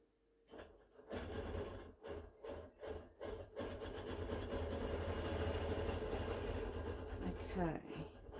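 A Bernina Q-matic longarm quilting machine runs in a few short stitching bursts, then settles into a steady, fast mechanical chatter close by before halting, with a voice speaking briefly over it.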